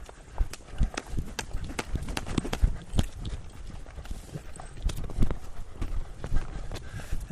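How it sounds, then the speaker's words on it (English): A horse lopes around a training pen, its hooves thudding in a steady rolling three-beat rhythm at moderate distance, with faint ambient noise behind. "See if we can get a little lope out of him."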